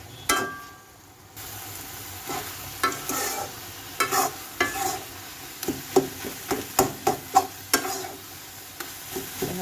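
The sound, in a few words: stirring and frying spinach with fish in a pan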